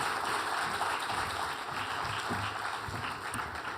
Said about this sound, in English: Another warm round of applause for our WoW Queen.